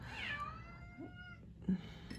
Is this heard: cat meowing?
yes